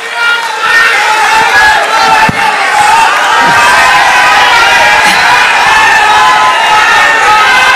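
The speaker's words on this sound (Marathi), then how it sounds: "आपण सर्वजण त्यांच्या टाळ्या वाजून स्वागत करा" A large crowd at a Lok Sabha 2024 election campaign rally in Parli, India, roars and cheers continuously, a dense wall of voices with shouts rising above it, loud and sustained throughout.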